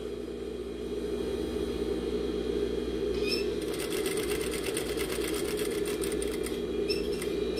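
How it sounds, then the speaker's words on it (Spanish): An industrial straight-stitch sewing machine with a 3-in-1 presser foot runs steadily, stitching close to zipper teeth over a constant low motor hum, its rapid needle clatter continuous and near. "Igualmente lo cosemos lo más cerca que se pueda de los dientitos, ahí donde nosotros decidamos."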